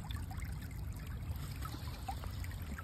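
A cold outdoor stream trickles steadily along a slippery walking spot, a soft continuous babble at low, even volume with no talking.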